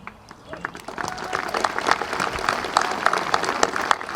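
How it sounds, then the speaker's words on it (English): A crowd at a high school graduation ceremony breaks into applause, dense clapping swelling from sparse claps to a sustained, fairly close ovation over a few seconds, with some voices mixed in. "Graduates, give yourselves a round of applause because we've finally made it."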